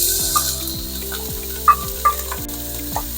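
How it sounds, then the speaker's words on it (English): Onions sizzle and fry steadily in olive oil in a pot, a continuous close crackle with small pops throughout and no talking. "And then we add the onions. We want to sweat them out a little bit."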